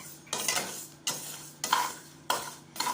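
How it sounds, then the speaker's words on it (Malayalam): Rice roasting in an old pan makes rhythmic bursts of dry scraping and sizzling as it is stirred, about five strokes in quick succession, close and clear. "നമ്മൾ അരി വറക്കുക"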